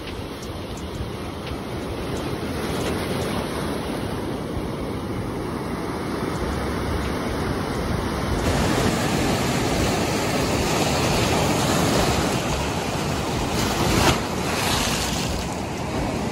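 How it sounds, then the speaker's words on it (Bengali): Sea waves roar onto the beach at Mandarmani, a loud, continuous broadband wash of surf with gusts of wind buffeting the microphone and no voices. "সমুদ্রের গর্জন শুধু ফিল করো।"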